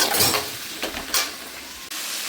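Garlic, onion and capsicum fry in a pan for chicken chilli, giving a loud, close sizzle broken by stirring scrapes. The sound drops sharply near the end before the frying noise returns.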